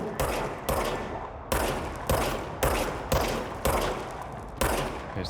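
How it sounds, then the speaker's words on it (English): Gunfire in the video game Control, about nine heavy, booming single shots at roughly half-second to one-second intervals, each with a decaying tail, loud and close with no talk. "I like shooting."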